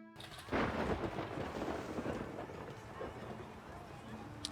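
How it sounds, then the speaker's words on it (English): A thunderstorm in the city-building game Farthest Frontier: a deep rumbling thunderclap rolls in and fades slowly into a dense wash of steady rain. "I love the thunderstorms in this game."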